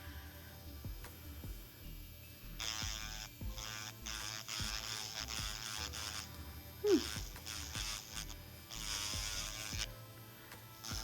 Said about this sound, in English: See how it's pushing that cuticle away and grinding some of it down?